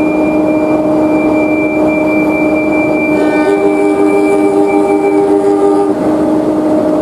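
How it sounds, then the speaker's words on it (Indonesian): A passenger train rumbles steadily nearby as it departs Leces station in Indonesia, while a long, loud horn sounds for several seconds, its tone wavering before fading out. "Kereta api Probolinggo diberangkatkan dari stasiun Leces"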